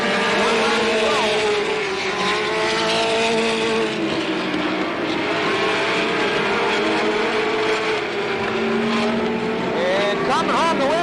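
Late model race cars roaring around Slinger Speedway in 1985, loud continuous engine drone with shifting pitch as cars pass, tire squeal near the end, under an announcer calling the race.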